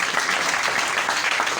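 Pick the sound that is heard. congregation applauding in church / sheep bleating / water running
congregation applauding in church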